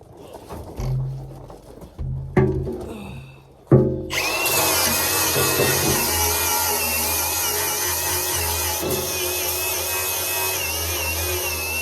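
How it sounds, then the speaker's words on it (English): A few short bursts of a grinder, then a loud, sustained high-pitched grinding whine as it cuts off metal bolts, running continuously to the end. "gotta grind these bolts off actually now that I'm looking at them"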